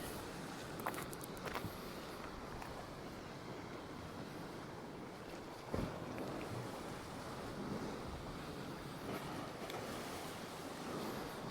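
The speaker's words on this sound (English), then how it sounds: "that headwind is right in my face" Strong headwind on a seaside cliff walk, a constant rough buffeting roar of wind over the microphone blended with distant surf, steady throughout with a couple of louder gusts and faint footsteps.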